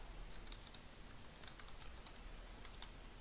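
Someone types on a computer keyboard in a Windows search box, making quick, faint clicks in a loose rhythm over a soft background hiss.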